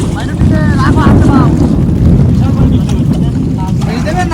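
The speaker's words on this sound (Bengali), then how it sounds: "দুই নৌকা একসাথে করে আমরা সব থেকে বড় নদীটা পার হচ্ছি।" Two boats lashed together cross a wide river in the Sundarbans during a violent Kalbaishakhi storm. Loud, relentless wind roars and buffets the microphone throughout, with faint voices underneath.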